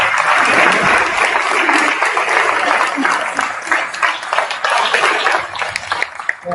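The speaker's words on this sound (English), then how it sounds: "one more round of applause." A large audience gives a sustained round of applause at a public speaking event, dense clapping that stays loud and steady throughout, with some crowd noise mixed in.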